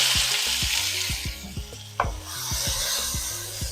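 Beans go into a pan for corn meal and are stirred, giving repeated scraping and rubbing strokes with a soft sizzle and a sharper clack from the spoon partway through.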